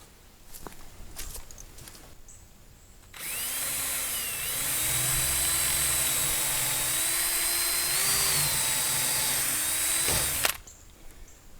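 A power drill whirs steadily for several seconds pre-drilling screw holes for a greenhouse, its pitch shifting slightly under load, with brief handling clicks before and after.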